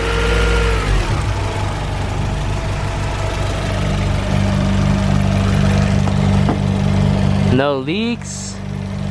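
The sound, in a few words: Honda B16 engine idling after swap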